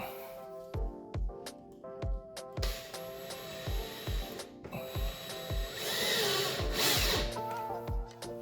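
Self-tapping screws driven in with a power drill to mount window shades, giving a series of short whirring ratchet-like bursts with brief pauses between, close and moderately loud.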